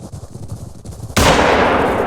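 Single loud rifle shot in the hunting game The Hunter: Call of the Wild on an African reserve, a sharp crack that bursts out after quiet ambience and rings off in a long decaying tail.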